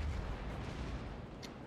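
Naval shell fire in the World of Warships naval battle game, heard as a continuous low, rumbling boom of distant gunnery that stays fairly quiet and steady throughout, with no voices.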